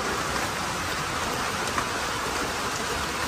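Steady, dense rain hiss with no voices, an even wash of falling water holding at the same level throughout.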